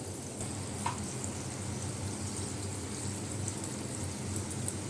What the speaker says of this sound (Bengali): এখন এটা একটা পিস ভালো করে ভাজা হোক